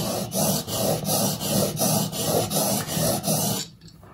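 A steel wood chisel blade rubbed back and forth over a sharpening surface, about eight steady rasping strokes in an even rhythm, close and loud, ending abruptly in near silence.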